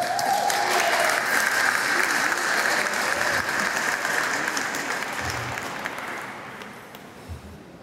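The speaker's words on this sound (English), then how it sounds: "Please welcome them with a round of applause." An audience at a Hispanic Heritage Month closing ceremony gives a round of applause for sponsors, a loud, dense crowd clapping that holds steady and then gradually fades toward the end.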